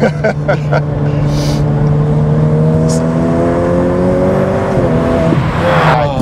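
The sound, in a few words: Ferrari F8 Tributo engine accelerating and shifting gears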